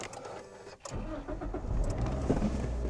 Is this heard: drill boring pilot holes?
no